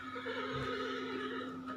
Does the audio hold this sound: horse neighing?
yes